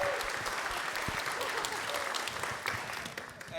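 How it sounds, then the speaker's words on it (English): Applause from a live audience at a radio show with a band, a full, continuous wash of clapping, crowd noise mixed in, tapering slightly at the end. "applause for your excellent questions from the audience."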